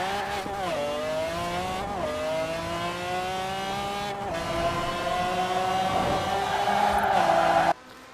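A 2,000-plus-horsepower car in the racing game Forza Horizon 4 accelerates hard, its engine climbing through several gear shifts with brief dips between each rise before cutting off abruptly near the end.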